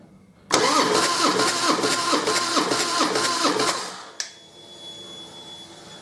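A Harley-Davidson Deuce engine cranks loud and close at full throttle during a compression test, its starter churning in a rapid, even rhythm for about three and a half seconds before it stops with a clunk.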